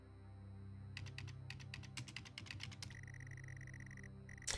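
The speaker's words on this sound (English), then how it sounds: "there's like an in-game typing sound, and then you might also hear my keyboard," Clicky keyboard typing from the game Stories Untold sounds in quick irregular bursts of keystrokes over a steady low electronic hum, with a high sustained tone toward the end.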